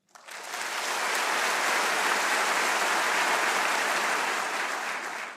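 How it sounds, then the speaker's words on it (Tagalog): Steady audience applause from a large congregation at a religious gathering, a dense wash of clapping that swells quickly and holds evenly for several seconds with no voices over it. "Wala na kayong ginawa kundi pumalakpak ka."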